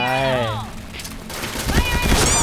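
Double-barrel shotgun and machine gun fire in a shooter video game: an excited voice talks first, then heavy, rapid bursts of shots and booms pile up loud and close.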